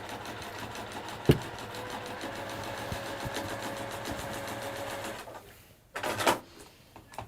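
A sewing machine sewing down a cushion handle, a steady whirring stitch run of about five seconds, close and even, followed by a brief clunk and a short pause with no talking.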